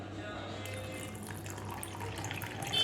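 Cashews and raisins are rinsed under a running tap, a steady close splashing flow of water with light patter that grows slightly louder toward the end, with no voices.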